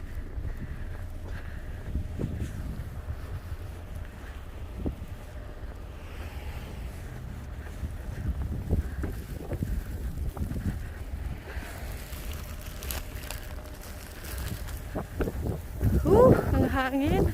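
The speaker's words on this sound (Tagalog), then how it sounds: "Ang hangin. Grabe." Strong wind gusts in a snowstorm in Montreal, Quebec, a steady low roar buffeting the microphone and building louder near the end, with a person talking intermittently over it.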